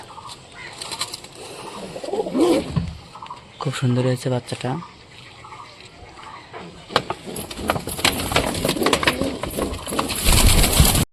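Satin pigeons coo softly in short bursts nearby, with a clearer cooing phrase in the middle, while a person talks over parts of it.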